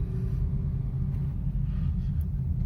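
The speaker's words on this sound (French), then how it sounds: "là je vais appuyer sur l'accélérateur pour le coup" Car with an automatic transmission accelerating during a beginner driving lesson: a steady low engine rumble holds at an even level throughout, heard from inside the cabin with no talking.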